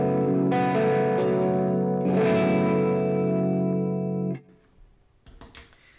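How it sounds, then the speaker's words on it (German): Electric guitar through a chorus effect on a Fractal Audio setup, with sustained shimmering chords that ring loud for about four seconds before cutting off, followed by a few quieter scratchy string noises. "Dann haben wir hier auch den Chorus. Kann solche Sounds mitmachen."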